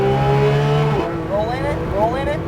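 Porsche 911 GT3 RS engine on the track at Sonoma, a strong droning tone that rises as the car accelerates, close and loud, with an instructor talking over it.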